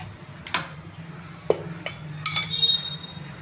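A pan set down on a lit stove for cooking fish pulusu, giving a few sharp metallic clinks and clanks spread over a few seconds against a low steady hum, with no talking.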